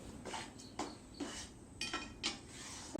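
Cardamom powder stirred into a ladoo mixture in a pan, with soft, spaced scrapes and light metallic clinks of a spoon, about six strokes, faint and close.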